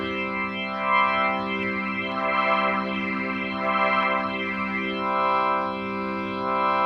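A steady sustained Hammond-style organ tone from a Yamaha MODX/Montage synthesizer, swirling with a wavering chorus effect, its shimmer pulsing slowly, continuous and fairly loud with no voices.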